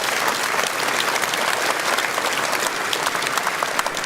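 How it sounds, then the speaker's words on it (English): A crowd at a Reform UK rally in Buckinghamshire gives a round of applause. The clapping is loud, dense and continuous throughout, with no talk over it. "Round of applause, I think, yeah."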